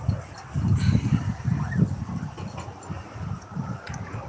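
Outdoors in a yard, a dog makes low, muffled barks and grumbling woofs in irregular bursts, fairly close, alone without talking.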